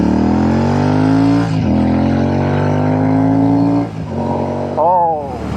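Royal Enfield Shotgun motorcycle with AEW exhaust pipes running loud and close, a deep throbbing engine note climbing steadily in pitch, dropping back, then a sharp rev blip near the end.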